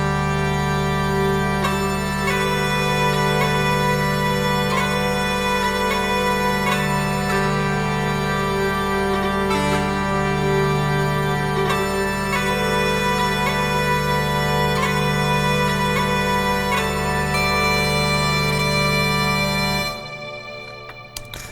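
Sustained uilleann pipes drones from a Spitfire Audio sample library, with a reedy chanter melody playing long notes over them, steady and loud, then cutting off near the end.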